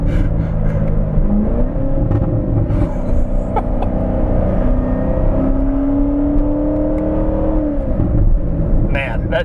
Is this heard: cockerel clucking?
no